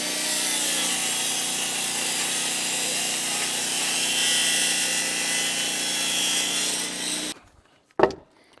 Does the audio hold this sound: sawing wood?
yes